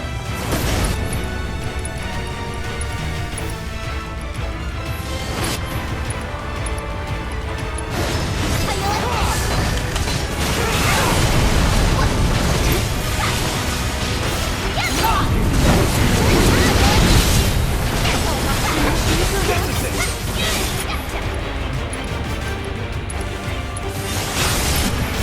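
Cannon blasts in the video game Final Fantasy VII Remake: dense, loud rumbling booms and crashes pile up continuously, swelling in intensity through the middle with a constant roar and game effects, and no clear talk.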